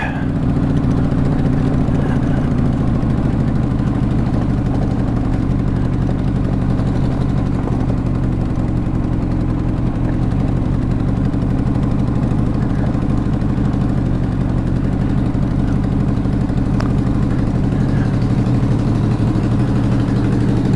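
A carbureted motorcycle sits idling in neutral at roughly 1480 RPM, a loud, close, unbroken low engine rumble that holds steady throughout with no talking.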